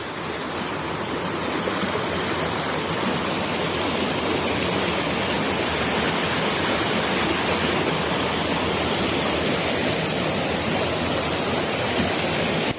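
Steady, loud rush of water pouring and flowing beneath a bridge, a continuous broadband roar like a stream or small waterfall, close by and unbroken throughout with no talk.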